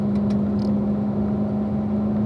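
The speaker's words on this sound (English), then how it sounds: "accelerate out to the exit curve" Race car accelerating out of a corner toward the exit curve on a track, a steady loud engine drone with a strong tonal hum and no clear rise in pitch, heard from inside the car.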